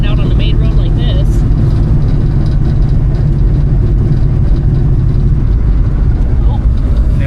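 A Chevrolet Nova project car drives on a road, its engine giving a loud, steady, low rumble from inside the cabin, with voices talking over it.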